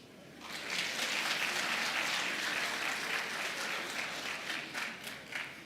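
Audience applauding at a graduation ceremony for an executive intelligence management course, sustained dense clapping from a sizeable crowd that rises quickly and continues evenly before thinning slightly at the end.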